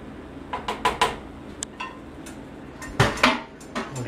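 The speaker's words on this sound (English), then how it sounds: "Give this a little stir." A metal utensil scrapes and clinks against a pan of tomato marinara gravy for chicken cacciatore, a handful of sharp, close taps and scrapes in irregular bursts with quiet pauses between them.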